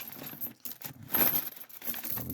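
Coins spill and clatter as they are poured out, a dense, busy jingle of metal pieces tumbling over one another for a couple of seconds. The sound is fairly close and has no talk over it.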